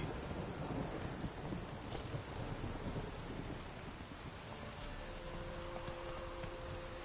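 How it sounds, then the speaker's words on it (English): Steady heavy downpour in The Witcher 3, a dense rushing hiss of rain with deep thunder rumbling early on, fading to a calmer patter with a faint tone near the end. "This downpour's a bastard, it is."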